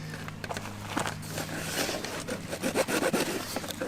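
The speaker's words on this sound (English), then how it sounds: "So what we're going to do is just take a little hacksaw right here." A small hacksaw cuts through a downspout, close up, giving a steady run of rasping back-and-forth strokes. The strokes grow louder and more clattery toward the end.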